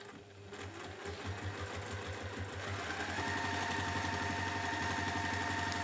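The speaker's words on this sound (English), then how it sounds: "Looks like we're stitching." A sewing machine stitching a fancy washbag runs at a steady, rapid mechanical pace, with a constant motor hum under the needle clatter. It is close and grows slightly louder partway through.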